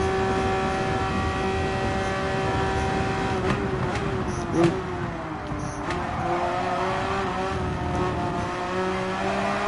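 Race car engine in Gran Turismo 7 at Spa, a steady high revving drone with a brief tire squeal midway, loud and continuous.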